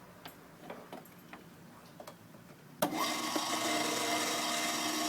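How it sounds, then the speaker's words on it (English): A vintage Proctor Silex ice cream maker gives a few scattered light clicks, then its motor kicks on with a sudden steady whirring hum as the bucket spins. "let it run for about 2 minutes"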